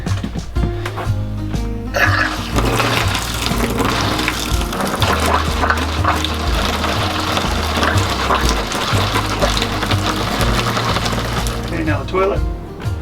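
Water runs through the shower of an RV travel trailer being winterized, a loud continuous gushing rush with a steady low hum beneath it, cutting in sharply after a brief quieter start and stopping near the end.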